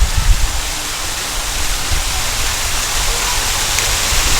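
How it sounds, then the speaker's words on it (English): Steady, full roar of a small waterfall at an outdoor mini golf course in Prairieville Park, a constant rushing wash with a little low rumble at the start and no voices. "look at that waterfall"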